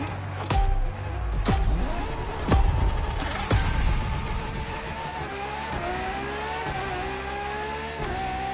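Ferrari LaFerrari hybrid supercar driven in The Crew Motorfest, engine roaring loud and close with sharp gear-shift bangs early on, then sustained revving that climbs and drops through several gears.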